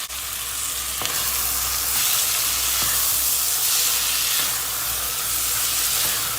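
Tomatoes fry in tomato paste in a soup pot, hissing and sizzling loudly and continuously up close, without any voices.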